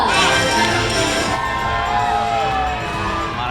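A crowd at a Medieval Times dinner show cheers loudly, with children shouting and whooping in a dense, continuous roar that eases slightly after the first second while voices carry on beneath.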